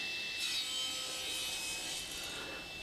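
A handsaw cuts small wooden pieces in half for a box build, a quiet steady rasping stroke sound, close and continuous with slight rhythmic swells.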